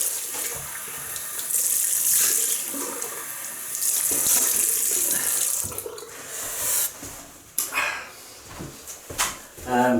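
A bathroom tap gushes water into a sink for rinsing after a shave, a steady hiss that breaks into splashes and stops and starts toward the end.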